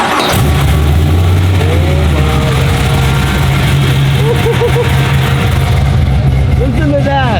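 A tuned BMW M235i engine starts and revs, loud and close, holding a thick steady roar with rising and falling pitch sweeps as the throttle is blipped.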